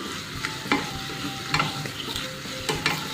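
Ready-made rasam powder stirred into hot ghee in a pan, a close, steady sizzle with a scraping spoon sweeping through every second or so, no voices.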